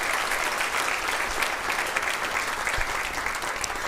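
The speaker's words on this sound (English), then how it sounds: "Give yourselves a round of applause." An audience at a university state-of-the-university address applauds, a steady, dense wash of clapping from a large crowd filling the hall at even loudness throughout.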